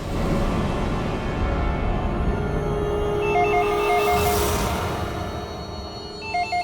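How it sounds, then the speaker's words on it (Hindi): A telephone rings in repeated electronic bursts over a steady, loud background hum. "तो भी फोन उठा"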